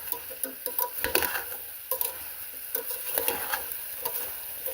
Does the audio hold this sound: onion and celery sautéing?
yes